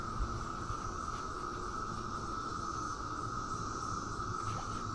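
Cicadas drone near a fishing spot, a continuous shrill buzzing chorus holding steady throughout, moderately faint against soft outdoor ambience.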